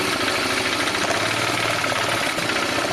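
Polaris engine with a carburetor idling after warming up, running lean as if from a vacuum leak; a steady, loud, continuous rumble close by with no talk.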